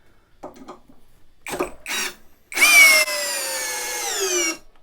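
Leader Ultra 20V impact drill driving a screw into dense ash wood on second speed, with a few short bursts followed by a sustained, loud whirring run of about two seconds that stops abruptly.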